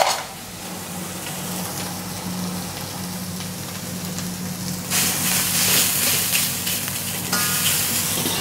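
Rice being stir-fried in a pan for crab fried rice, a steady close sizzle with scraping and stirring that grows louder and brighter midway, and nobody speaking.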